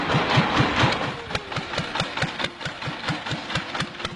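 An old Ferguson tractor engine runs steadily while hauling a 300-litre slurry barrel to a field, with a rhythmic chugging pulse of regular low knocks, close and loud, with no talk.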